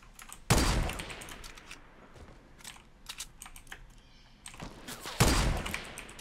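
Sniper gunfire in a Fortnite Battle Royale match, two sharp loud shots several seconds apart over quieter clicking and game ambience.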